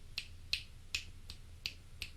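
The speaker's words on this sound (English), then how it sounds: "if I snap my fingers" Six crisp finger snaps at an even pace, each a sharp close click against a quiet low hum, captured on one channel of a six-microphone recording gadget.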